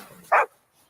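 A single short, sharp bark from Krypto the superdog in a DC video game, sounding close and loud against quiet background noise.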